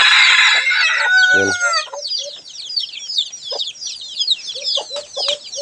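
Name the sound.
chickens clucking and crowing on a farm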